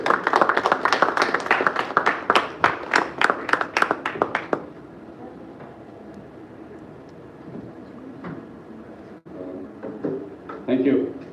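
An audience at an NMDC Limited live event claps in sharp, evenly spaced beats for a few seconds as a speaker joins the stage, then quiets as talking takes over.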